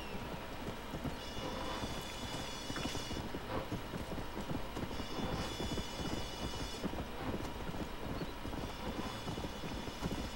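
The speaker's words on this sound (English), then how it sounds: "No! No, Mr. Horse. Don't get mad. I'm just spurring you multiple times in the same place" Horse hooves gallop in the Red Dead Redemption video game, a continuous dense clip-clop rhythm over game ambience and music, steady and moderately loud throughout with no talk.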